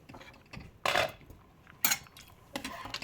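Metal lid set down on a pot of khichuri cooking in a home kitchen, giving a few sharp clanks spaced about a second apart with faint rattles between, close and alone.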